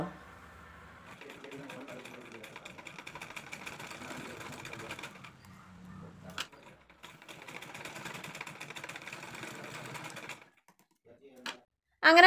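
Sewing machine stitching the shoulder seam of a frock-style nighty, running in two long steady bursts of rapid mechanical whirring separated by a brief pause, close and moderately loud.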